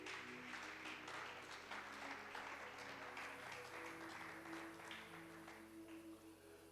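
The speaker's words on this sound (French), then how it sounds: "Est-ce que tu peux acclamer pour la gloire de Dieu?" A church congregation claps in sustained, dense applause, a steady wash of many hands over a low musical hum, moderately distant, easing off slightly toward the end.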